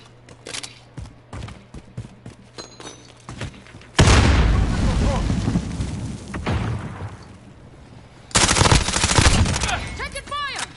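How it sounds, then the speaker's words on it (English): Gunfire in the shooter Modern Warfare: a run of separate shots, then two loud bursts of dense automatic fire and booming impacts, with a player's voice heard between them. "Taking fire!"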